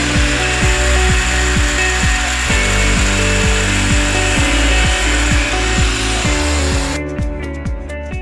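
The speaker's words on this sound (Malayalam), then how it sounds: "ഈ കത്തി കട്ട് ചെയ്യുന്നതാണ് ഇപ്പോൾ ചെയ്യാൻ പോകുന്നത്" A loud power tool runs steadily with a rhythmic, regular chugging pulse as it cuts through a prop knife, sounding close and continuous before the high whine drops away near the end.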